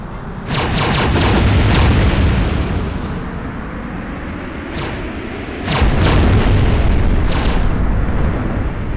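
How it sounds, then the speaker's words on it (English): Gunfire and explosions from the mid-90s PlayStation space-combat game Starwinder: loud, dense booming blasts rolling almost continuously, with sharp bursts of shots breaking through in clusters. "Oh yeah, and the other pilots are shooting at you."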